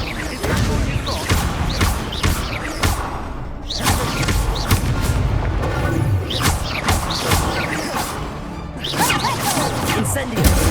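Confringo spells cast in Hogwarts Legacy combat, several sharp whooshing bursts and thudding impacts spaced a few seconds apart over busy battle noise, with voices speaking briefly in between.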